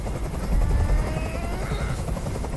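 Helicopter in the PS5 video game Detroit: Become Human, a steady, loud rotor drone with a rumbling low end filling the short stretch without pause.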